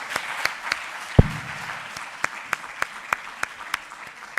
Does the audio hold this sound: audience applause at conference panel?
yes